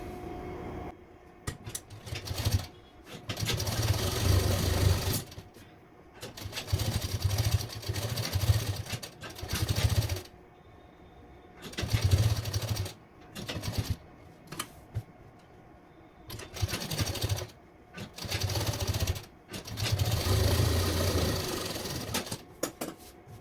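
A sewing machine stitches along the fused edge of a plain suit, running in repeated bursts of steady whirring, several seconds each, separated by quiet pauses, close and fairly loud.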